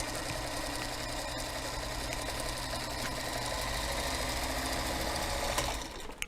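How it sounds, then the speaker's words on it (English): A Featherweight sewing machine runs continuously as it stitches along a marked line, a steady fast mechanical whir with rapid needle chatter, stopping abruptly at the end. "I'm just going to sew down that line."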